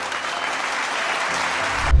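About 7,000 people in an auditorium applaud after Swami Vivekananda's Chicago speech, a dense, continuous wash of clapping that stays steady and loud throughout and ends with a low thump.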